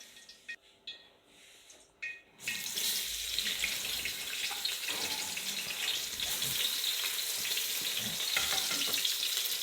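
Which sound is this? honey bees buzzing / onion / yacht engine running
onion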